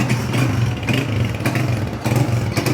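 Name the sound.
Honda motorcycle engine revving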